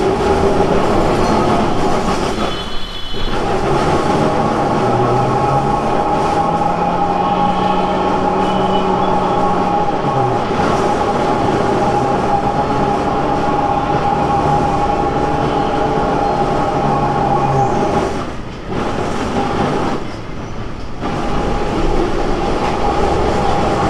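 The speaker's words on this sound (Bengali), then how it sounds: "আমাদের গড়িয়াহাট থেকে এসপ্ল্যানেড যাওয়ার ট্রাম গড়িয়াহাট ট্রাম ডিপো থেকে ছাড়লো" A Kolkata tram pulling out of the Gariahat tram depot on its run toward Esplanade gives a steady, loud rail rumble and rolling wheel noise, with a brief low squeal partway through and no talking.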